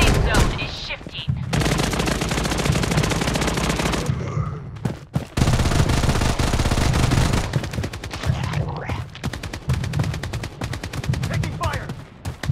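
Dense automatic gunfire in the mobile shooter Blood Strike, long rapid bursts of loud shots with brief pauses, nearly continuous and close, with a few voice callouts mixed in.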